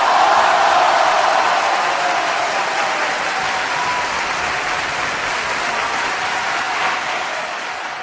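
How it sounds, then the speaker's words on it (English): A canned crowd-cheering sound effect triggered by a button on a sports talk show: a dense wash of clapping and crowd noise, loud at first and slowly fading over about eight seconds. "this fake crowd that I'm going to push this button for is also for him"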